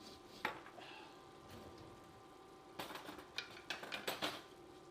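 Pasta with paprika and adobo seasoning stirred in a pan, a quiet hiss broken by a few soft scrapes, then a cluster of spoon scrapes and knocks toward the end.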